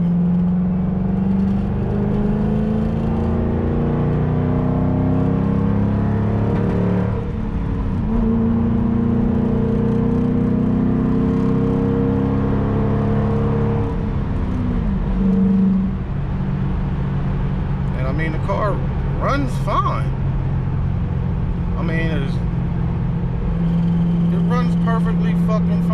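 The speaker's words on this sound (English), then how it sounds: "Sounds like a bad wheel bearing, but I know it ain't the wheel bearing" Low droning hum and whir from a car, resembling a bad wheel bearing and present even when the car is stationary, steady and close for a long stretch, with a voice speaking over it and some clicks later.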